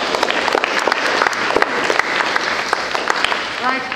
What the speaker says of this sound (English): And a round of applause for these rock stars.